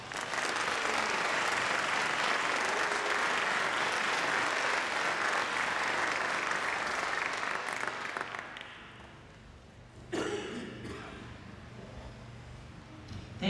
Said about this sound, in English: Everyone, please join me in a round of applause in thanking those who helped make tonight possible.